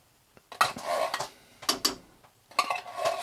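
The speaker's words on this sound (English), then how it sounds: "Stir everything up, kind of warm it all up" A utensil stirs linguine, fried mushrooms and cream of mushroom soup in a pan in a cabin kitchen, three separate bursts of scraping and clinking against the metal with brief quiet gaps between.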